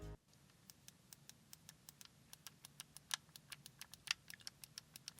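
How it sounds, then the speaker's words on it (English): Crisp plastic clicks from the X, Y, A and B face buttons on a MOBAPAD M6 Nintendo Switch joycon controller, pressed repeatedly in a quick, fairly even rhythm, close and clear against a faint low hum. "Incredibly satisfying click."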